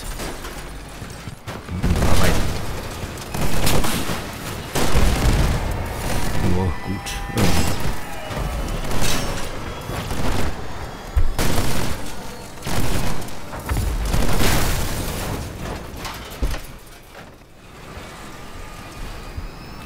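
Rockets and cannons fire in a Crossout vehicle combat battle: repeated loud booming blasts and volleys burst every couple of seconds over rumbling engines, with a voice talking at times between the explosions.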